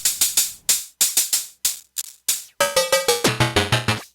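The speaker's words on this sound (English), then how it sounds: "Go to the hi-hats." A rapid run of crisp, gritty electronic hi-hat hits from a ModBap Trinity drum module, grit modulated by an LFO, pulses in an uneven rhythm, shifting into a denser buzzing pattern toward the end.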